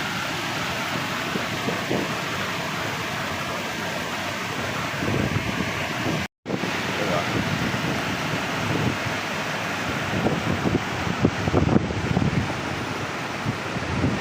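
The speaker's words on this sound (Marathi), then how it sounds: "असा हा ओढा या ओढ्यातून मोठ्या प्रमाणामध्ये महालक्ष्मी तलावात पाण्याची आवक" A stream at Peth Vadgaon pours into Mahalaxmi lake with a broad, steady rushing roar, buffeted by wind on the microphone, with a brief dropout partway through and no voices.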